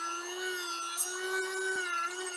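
A copper bowl made from copper pipe being polished with polishing compound on a rotary tool, giving a steady high-pitched whir like a dentist's drill that holds one even tone throughout, close and continuous.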